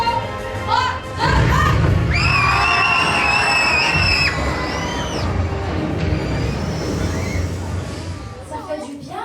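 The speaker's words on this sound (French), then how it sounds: "on a le droit de crier" A theme-park audience at the Armageddon special effects show at Walt Disney Studios Paris shouts and screams together on cue, a loud sustained roar of many voices that gradually fades.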